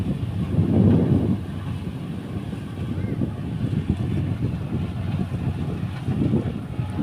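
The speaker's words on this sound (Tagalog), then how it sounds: "Mahangin dito, malamig eh." Wind gusts across an open rice field at harvest, a rumbling blustery roar buffeting the microphone in uneven surges, fairly loud throughout.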